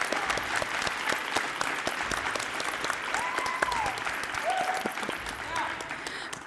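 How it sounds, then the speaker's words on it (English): A crowd applauds steadily throughout, a dense wash of clapping that stays loud from start to finish. "Let's keep that applause going"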